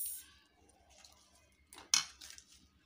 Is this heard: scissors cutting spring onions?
yes